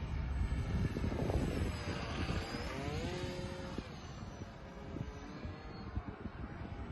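The electric motor of an RC Mustang foam model airplane with a slightly bent motor shaft, flying below half throttle. Its steady, faint drone rises and falls as it passes by, with no other sound over it.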